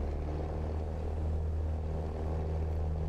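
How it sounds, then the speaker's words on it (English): A propeller aircraft engine in Microsoft Flight Simulator 2020 drones at full throttle for takeoff, a steady low hum with constant harmonic tones and no breaks. "Full throttle, and we're gonna go ahead and take off."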